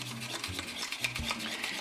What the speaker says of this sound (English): Let me go ahead and beat an egg up in here.